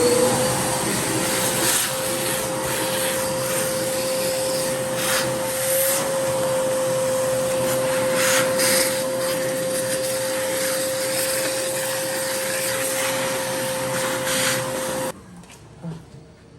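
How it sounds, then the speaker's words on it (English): A vacuum cleaner runs continuously with a steady whine and airy roar, close and loud, then shuts off abruptly near the end, leaving quieter background. "Okay, fast forward, the vacuuming is done."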